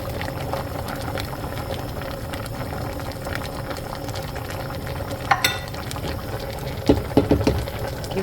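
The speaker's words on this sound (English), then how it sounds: "The yams are cooking good." Yam porridge with palm oil simmers in a pot, giving a steady soft bubbling and gurgle with faint stirring clinks near the end, moderately quiet and close, with no voices.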